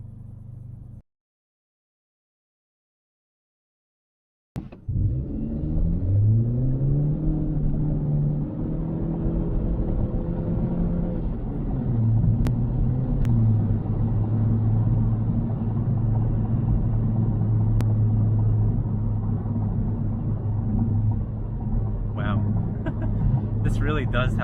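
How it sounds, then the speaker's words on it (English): Honda Civic Sport hatchback accelerating hard from 0 to 60, a steady rising engine drone with no gear-shift breaks heard from inside the cabin after a brief silent pause, continuing loud and even throughout. "I think now would be a perfect time to do a 0 to 60 in this car"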